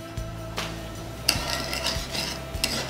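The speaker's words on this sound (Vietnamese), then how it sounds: "Rồi mình khuấy khuấy lên như thế này." A spoon stirs a sugar, fish sauce and water mixture in a pot, giving soft liquid swishes broken by a few distinct clinks and scrapes of metal against the pan at an uneven rhythm.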